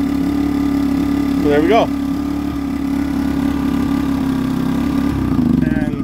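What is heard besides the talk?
Yardworks 950W inverter generator engine at low idle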